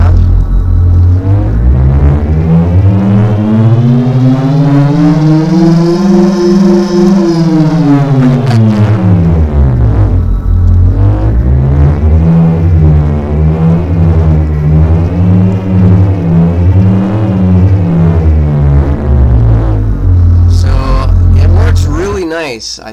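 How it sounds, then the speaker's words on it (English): A cheesy synthetic motor sound effect plays in Godot, a loud steady buzzing drone whose pitch rises and falls smoothly, sweeping up and back down and then wavering, with a voice talking faintly near the end. "So there's our really cheesy, crappy motor sound."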